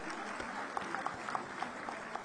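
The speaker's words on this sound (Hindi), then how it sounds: "शिवानी पांडे, जोरदार तालियां आपके लिए" Audience applause at a Women's Day job fair event in Lucknow, a broad, steady wash of many hands clapping throughout, moderately loud and continuous without talk.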